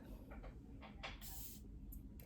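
A few short, soft bursts of spray hiss from a small facial mist bottle, close and quiet, with brief gaps between pumps.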